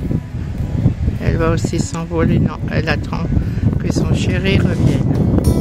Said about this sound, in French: Excusez-moi pour le vent.